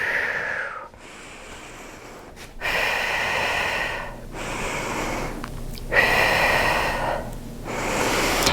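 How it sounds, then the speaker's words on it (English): A person takes slow, deep breaths while holding downward-facing dog pose in a yoga flow: long airy inhales and exhales, several cycles with short pauses, close and clear, no talk. "And breathe here."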